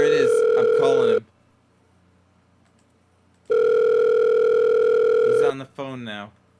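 Telephone tone on an outgoing call: a steady sustained tone sounds twice, each lasting about a second or two, separated by a silent gap, with voices talking briefly around it.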